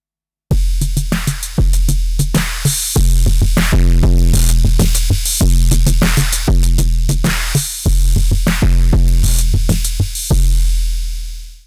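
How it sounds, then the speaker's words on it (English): A DrumBrute Impact drum machine plays a loud, heavily distorted and compressed beat through its master distortion, with punchy kicks and snares repeating steadily in an even rhythm until the final hit rings out. "we have the master distortion."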